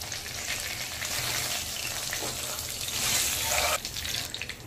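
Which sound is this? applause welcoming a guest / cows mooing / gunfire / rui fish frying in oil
rui fish frying in oil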